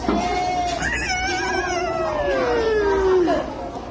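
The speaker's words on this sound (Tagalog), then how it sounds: "Okay, this is cat." A cat gives one long, drawn-out meow that slides downward in pitch over a few seconds. The cry is loud and close, over a faint steady background.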